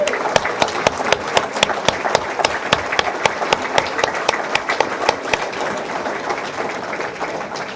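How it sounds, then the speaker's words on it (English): Audience at a Mother's Day dean's breakfast applauding the mothers, steady dense clapping with sharp individual claps standing out, fading slightly toward the end. "Please help me give them a big round of applause for a happy Mother's Day."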